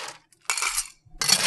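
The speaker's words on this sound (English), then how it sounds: "We put a little ice in the bottom of this rocks glass." Ice cubes dropped into the bottom of an empty rocks glass for a cucumber lemonade, two quick bright clattering bursts separated by a short silence, close by and with no talking.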